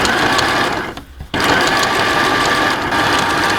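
A sewing machine stitching a zip seam on a skirt runs with a steady, loud, rapid mechanical whir, stopping for a split second before resuming its even stitching rhythm.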